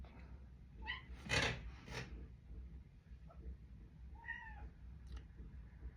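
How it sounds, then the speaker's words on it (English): A small cat meows a few times, acting hungry, with short faint cries in the first two seconds and another around four seconds, over low room noise and a brief loud rustle. "There's a little cat who's acting hungry, but I know he's not hungry because he just ate."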